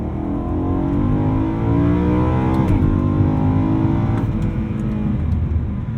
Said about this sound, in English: I'm gonna push down all the way on the accelerator to the kickdown switch, and I'm gonna pull this downshift paddle once.